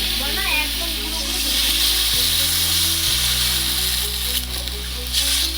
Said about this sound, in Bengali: এতে এবার কাঁচা লঙ্কাটা দিচ্ছি, দিয়ে জল দিয়ে দিচ্ছি।